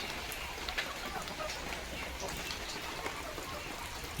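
Light morning drizzle falls steadily, a soft even patter with occasional distinct drops and faint birdsong in the background.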